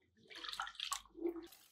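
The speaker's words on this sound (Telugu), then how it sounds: "ముందు ఇందులో బియ్యం పోసేసి కడిగేద్దు" Rice and split mung lentils being washed in water for sweet pongal, with short splashing and swishing bursts of water in a bowl, close by and brief, with no talking.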